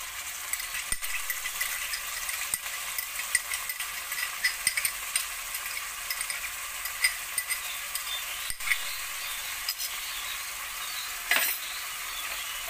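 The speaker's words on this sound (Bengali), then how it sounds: "আমার মশলাটা ভাজা হয়ে গেছে, এখন আমি আস্তে আস্তে সব ডালগুলো দিয়ে দিব।" Masoor lentils are tipped into fried spices in a pan for Bengali masala khichuri, giving a steady sizzle with repeated scraping and clinking of the stirring spoon against the pan, close up and with no talking.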